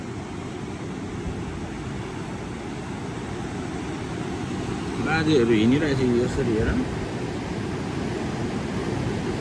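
Rough seawater surging and crashing, a loud continuous wash of surf with a brief swell in the middle, while a person talks over it.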